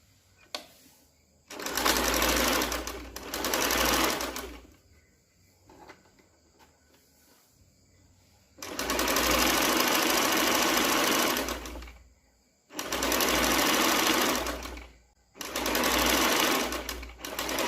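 A sewing machine stitches the facing on a blouse neckline, running in three loud bursts of steady rapid whirring, with quiet pauses between them.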